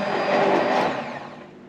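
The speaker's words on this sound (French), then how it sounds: "Je peux utiliser mon mixeur." An electric kitchen blender whirs steadily aboard a sailboat at anchor in the lagoon at Fakarava, a loud close buzzing run that holds for about a second, then eases and fades slightly.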